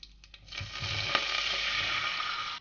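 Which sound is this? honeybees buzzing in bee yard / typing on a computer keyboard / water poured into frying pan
water poured into frying pan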